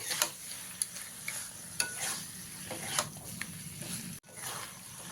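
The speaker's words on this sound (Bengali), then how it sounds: "ভালো করে একবার মিশিয়ে নিতে হবে এইভাবে" Steamed then fried cauliflower and potato are mixed in a pan, bringing a faint sizzle and repeated scraping and clacking strokes at an uneven rhythm, with a brief silent gap near the end.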